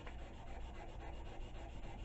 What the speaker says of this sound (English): just hand sanding with a piece of